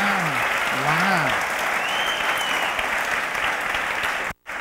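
A church congregation claps in sustained applause that fills the room, with voices calling out underneath before it drops away abruptly near the end.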